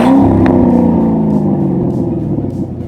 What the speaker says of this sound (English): let's go ahead and hear the amazing sound of the V8 engine from this exhaust note.